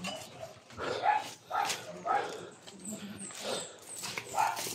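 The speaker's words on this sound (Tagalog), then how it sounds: "Dogs." Dogs bark and yip in short, uneven bursts at a middle distance outdoors, mixed with people talking over them.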